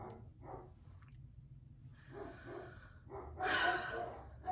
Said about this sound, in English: If you hear the barking happening downstairs,